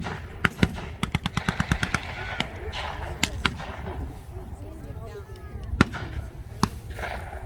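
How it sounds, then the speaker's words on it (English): MP40 submachine guns firing blanks at a WWII reenactment in Bowling Green, Kentucky: a rapid burst of sharp outdoor shots followed by scattered single reports, with a narrator speaking over the gunfire. "they're armed with MP40 machine gun pistols, and they're able to fire 30 rounds in a few seconds out of their magazine"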